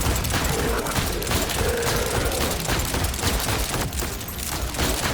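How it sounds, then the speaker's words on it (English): Rapid shots from the Jakobs 7th Sense pistol in Borderlands 4 come in a dense, continuous volley with loud cracks layered over chaotic battle noise. "This one right here, the 7th sense, is my favorite Jakobs pistol out of the whole lot."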